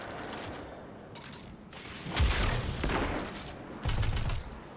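Grenade launcher fire in Destiny 2 comes as two heavy, booming blasts about a second and a half apart, loud and close over a constant backdrop of gunfire and game noise.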